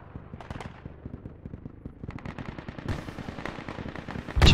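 Gunfire in a military shooter video game, with rapid bursts of automatic fire crackling at mid distance and a louder close blast at the end, with no talk over it.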